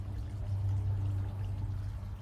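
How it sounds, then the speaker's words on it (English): Pumpkin coffee ale, a dark brown beer, glugs from the bottle into a glass in one steady, close pour lasting a couple of seconds, with no talking. "And let's see what the pour is like. Let's check the pour."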